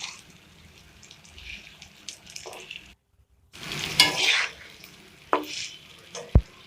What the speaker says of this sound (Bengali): চালটা ততক্ষণ পর্যন্ত ভাজতে হবে যতক্ষণ না পর্যন্ত সাদা সাদা ভাব হয়ে আসছে।